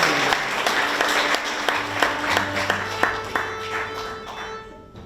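Audience applause fills a library concert space, a steady wash of clapping from a seated crowd that holds strong, then thins and fades toward the end while a low hum lingers.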